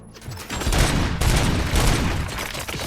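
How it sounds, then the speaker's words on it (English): Rapid gunfire in the Robocop Rogue City video game: a dense fusillade of overlapping shots, loud and close, firing continuously with brief pauses. "Gunshots? What's going on?"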